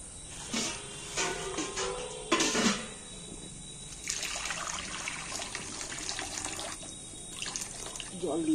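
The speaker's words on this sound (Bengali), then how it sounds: "কড়া বসিয়ে কড়ায় জল ঢেলে দিয়েছি।" Water pours and splashes into a kadai set on a lit stove, a running liquid wash with a few louder bursts of pouring, fairly close and steady throughout.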